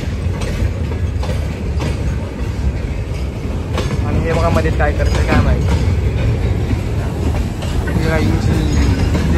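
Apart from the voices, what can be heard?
trains passing at a Mumbai station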